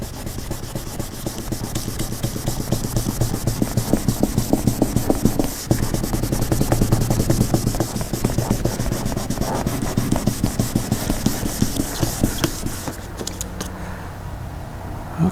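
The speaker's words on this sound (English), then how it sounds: "So sand until it's nice and smooth." Hand sanding across the painted bodywork of a Chrysler Crossfire makes a loud, continuous scratchy rubbing with steady back-and-forth strokes, close to the ear, easing off near the end.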